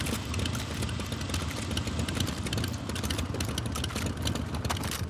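A motorcycle engine in the video game Far Cry: New Dawn runs loud and close, a steady continuous roar and rumble that never drops away.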